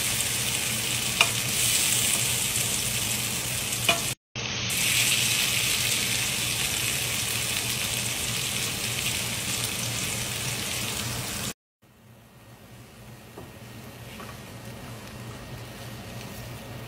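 Tomatoes fry in a pan with a steady, close sizzle and occasional stirring, cut by two brief breaks before the sizzling continues more softly.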